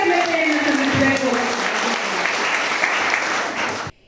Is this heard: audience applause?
yes